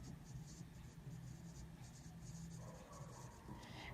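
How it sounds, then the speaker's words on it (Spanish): An HB pencil scratching across paper while drafting an architectural plan line, faint, quiet strokes with soft papery hiss and light scraping bursts, no talking. "esta línea intermedia lo vamos a realizar con lápiz HB o lápiz B"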